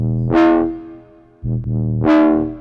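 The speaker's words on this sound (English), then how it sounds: "We'll try some reverb." Drum and bass music with a heavy reverb effect: two bright, swelling tones, each trailing off in a long echoing tail, with a brief softer note between them.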